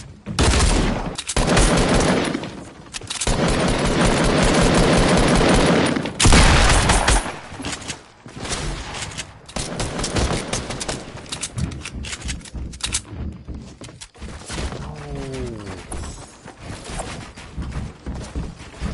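Gunfire in Fortnite Battle Royale, loud and sustained with rapid bursts and volleys overlapping for the whole stretch, a few brief gaps between heavy salvos and scattered clattering shots later on.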